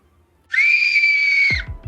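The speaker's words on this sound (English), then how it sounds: "There is a scream." A single loud, high-pitched scream holds steady for about a second and then cuts off sharply, followed by a few low thuds.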